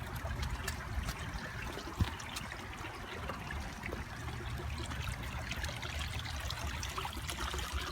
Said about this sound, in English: There's a little water feature right here.